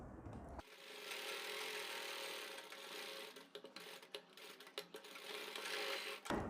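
A sewing machine stitches fabric around a curved buckram edge in one steady, continuous run, with a few small knocks and clicks near the end.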